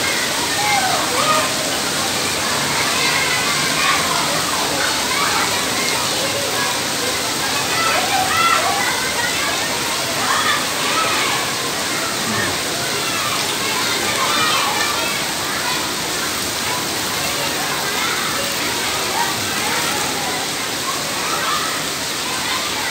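Heavy rain pouring down at an elementary school as pupils wait to go home, a dense, constant roar of falling water with splashing, steady and close throughout, with faint children's voices mixed in.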